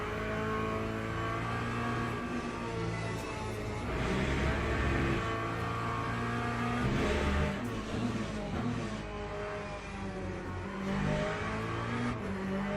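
Corvette race car in Le Mans Ultimate, its engine revving and shifting through gears in a steady, loud drone with rising and falling pitch as it accelerates.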